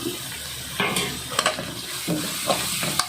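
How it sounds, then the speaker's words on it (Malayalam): Turmeric powder and softened onions fry in a pan for a pumpkin masala curry. A steady sizzle runs throughout, broken by several close scraping stirs of a spoon at irregular intervals. "മഞ്ഞൾപ്പൊടി നല്ലപോലെ മൂക്കണം ആ പച്ചമണം പോണം"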